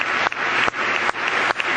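Applause from the chamber during a congressional address, a sustained wash of many hands clapping at moderate distance, steady with brief dips.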